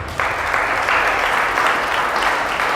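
A church congregation at a prophetic service breaks into applause for the Lord, and the clapping swells suddenly after a brief quiet moment and then stays full and even to the end.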